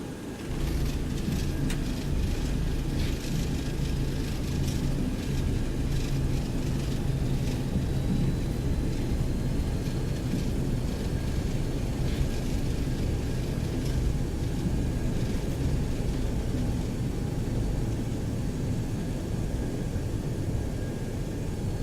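Boeing 727 thrust reversers roaring during the landing rollout in the X-Plane 11 flight simulator, a loud, steady broadband jet rumble with a low engine drone that holds evenly throughout and has no talking.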